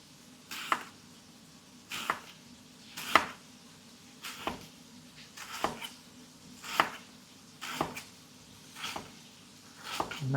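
A knife slices lettuce thinly by hand on a board, about ten crisp, evenly spaced cuts spread over several seconds, close and fairly quiet with no talk.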